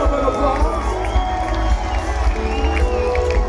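A large live crowd at an Amsterdam comedy show cheers and claps in a loud, continuous roar, with shouts rising over the dense applause throughout.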